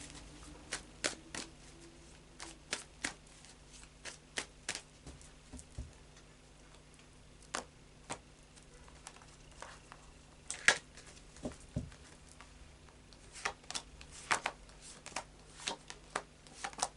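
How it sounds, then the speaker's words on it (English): Tarot cards being shuffled by hand, a dry patter of soft riffles and taps in irregular bursts, close and fairly quiet, with no talking. "a bit more of a shuffle"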